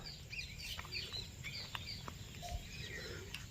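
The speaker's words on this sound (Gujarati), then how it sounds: "પક્ષીઓનો કલરવનો અવાજ" Around 6:45 in the evening in a village, birds returning home chirp and twitter with brief high calls scattered over a faint background. An occasional low cluck may come from chickens, and the whole scene sounds quiet and distant.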